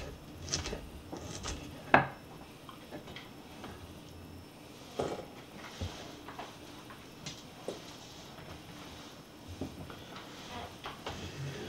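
A kitchen knife chopping celery finely on a cutting board outdoors beside a barbecue, a series of irregular sharp taps and clicks spread throughout, fairly faint over quiet background hum.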